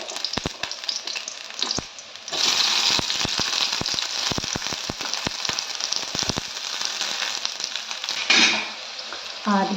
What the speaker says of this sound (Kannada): 1 ಸ್ಪೂನಷ್ಟು ಎಣ್ಣೆ ಹಾಕಿಬಿಟ್ಟು, ಎಣ್ಣೆ ಕಾದ ಮೇಲೆ ನಾನು ಈರುಳ್ಳಿನ ಸೇರ್ಕೊತಿದ್ದೀನಿ